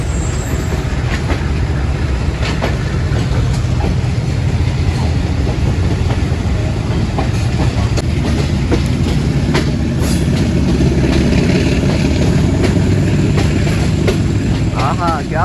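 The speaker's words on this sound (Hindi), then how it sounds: "तो फिर दोनों ट्रेन रवाना हो गई हैं चिड़िया वाला से।" A passenger train departing from Lahore runs on its rails with a loud, continuous rumble, rhythmic clickety-clack and occasional wheel squeal, heard up close throughout with faint voices beneath.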